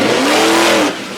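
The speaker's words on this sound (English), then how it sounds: "the engine does not quite sound healthy right now" Monster truck engine at a Durham, Connecticut event, running rough and unhealthy, with a loud close snarl and a rising then falling rev that drops off abruptly.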